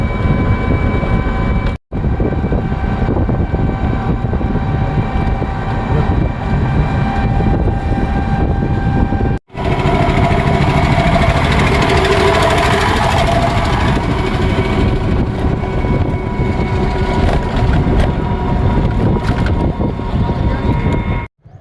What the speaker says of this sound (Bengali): দুটো ট্রেন আপ ডাউন হলো, পেলাম না।